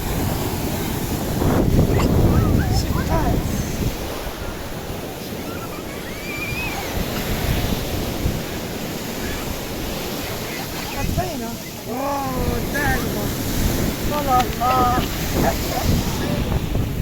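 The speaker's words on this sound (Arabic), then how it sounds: "البحر" Sea waves breaking on the beach at Arkmane village in Morocco, a continuous roar of surf mixed with wind buffeting the microphone, while voices talk faintly at intervals under the water noise.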